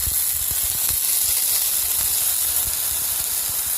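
Green beans sizzle loudly on a Blackstone hibachi griddle in oil, a close, steady hiss of frying with scattered pops and crackles, no voices over it.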